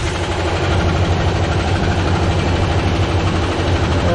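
A car engine idles while warming up, with a knocking fault and blackened spark plugs on the driver's side, giving a steady, loud, low rumble with a faint rapid tapping running through it.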